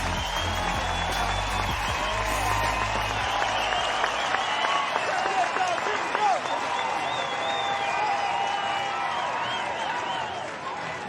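Packed ballpark crowd at an NCAA baseball tournament game between Oklahoma State and Texas Tech roaring and applauding with the bases loaded, a sustained dense wall of cheering and clapping, with music playing beneath at the start.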